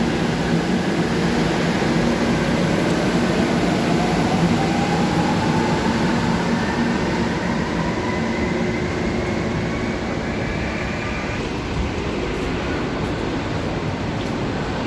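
Loud, continuous rumble and roar of a Manila MRT metro train in motion, with a faint rising whine layered over the steady noise.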